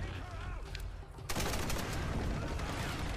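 Gunfire in the Tomb Raider video game: a quieter stretch gives way to a sudden loud, dense burst of rapid shots that continues steadily to the end.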